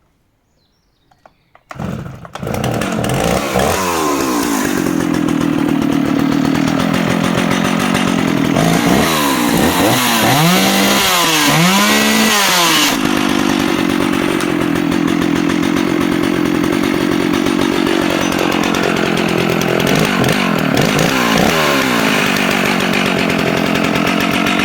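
A vintage West German Stihl 056 AVEQ professional chainsaw with an 87cc engine fires up after a restart, then idles and revs in loud, close bursts with no talking.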